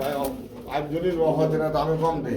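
Pigeons at a pigeon market coo in low, soft bursts close by, running on under steady nearby talk between people bargaining.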